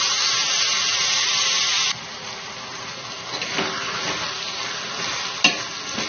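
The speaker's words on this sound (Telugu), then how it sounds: "టమాటాలు సాఫ్ట్గా మెత్తబడేంత వరకు ఇలా కలుపుకుంటూ మగ్గించుకోవాలి." Tomatoes cooking down in a pan for a tomato and drumstick curry, stirred with a steady scraping over a continuous soft sizzle, close and fairly loud, with a few sharper spoon knocks near the end.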